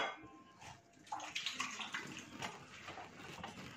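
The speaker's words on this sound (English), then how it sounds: "I won't put much water on it so that it will done and dry with the water" Water poured from a container onto pieces of meat in a cooking pot while preparing asolo meat, a soft splashing and trickling that swells after a quiet start and runs steadily, close and fairly faint.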